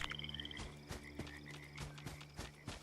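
Frog croaking inside a jar placed at a camp in Fallout 76, a series of short rhythmic croaks repeating about every half second, moderately loud over a faint ambient hum.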